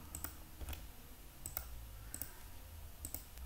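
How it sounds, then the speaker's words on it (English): A computer mouse clicks softly in quick pairs, close and faint, during drawing in LibreCAD. "Left click at the circle, left click at the point"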